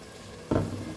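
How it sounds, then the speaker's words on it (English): Ground masala for Goan-style chicken kheema hits a hot pan and starts to fry, a sudden close sizzle that bursts in halfway through and keeps crackling steadily, with no talking. "Now we'll add the grounded masala into this and fry the masala nicely."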